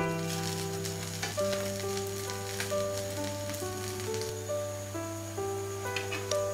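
Adai dosa batter fries in oil on a pan, giving a soft, continuous sizzle with light crackling. It stays fairly faint and even, and no one talks over it.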